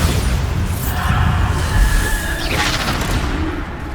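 A Bombarda blasting spell exploding in Hogwarts Legacy: a loud rumbling boom with crackling debris, followed by a rising magical whoosh and shimmer, all dense and close.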